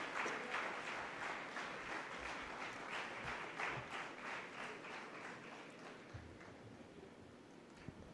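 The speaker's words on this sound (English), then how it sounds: "Can we have a huge round of applause as our souvenir is released today?" Applause at a company secretaries' conference as a souvenir book is released, a full round of crowd clapping that thins out gradually, with a few scattered claps and bumps at the end.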